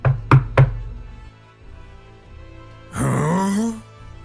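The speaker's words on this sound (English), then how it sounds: "Okay, give it 3 short knocks." Three sharp knocks on a wooden door, close and evenly spaced, followed by a low hum and then a drawn-out groaning, moaning voice from beyond the door.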